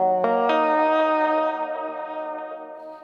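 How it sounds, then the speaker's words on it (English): A sustained, reverberant synth chord rings out in an electronic music mix, with a short reverb sidechained to the kick so the tail ducks slightly on each beat. Sharp attacks land early, then the sound decays gradually. "On this short reverb here, I think sidechaining makes no sense. And this had sidechaining also from the kick"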